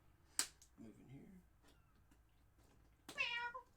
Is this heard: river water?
no